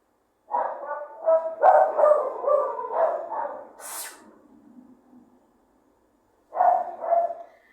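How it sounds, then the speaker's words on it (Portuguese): Several dogs bark in a rapid, yapping burst, fall quiet for a moment, then bark again briefly; close by and fairly loud. "os cachorros aqui começam a latir"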